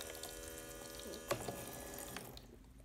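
Water runs from a kitchen sink tap as a toddler washes dishes, a steady gentle splash with a brief clatter in the middle before the flow cuts off near the end, leaving quiet.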